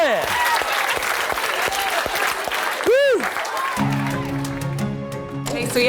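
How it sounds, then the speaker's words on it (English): Schoolgirls clap together after trying hurling, a dense, steady burst of applause with cheering voices and whoops over it, running the whole way through and loud and close. "Give yourselves a clap"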